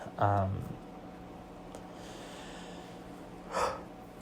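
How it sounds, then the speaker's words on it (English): A drawn-out yawn with a voiced, wavering tone, then quiet room noise and a short breathy exhale near the end. "there's the yawning"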